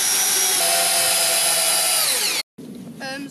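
A power drill drives screws into wood on a bike jump build outdoors, with one loud sustained whine whose pitch sinks as the screw seats, a brief stop, then a short second burst.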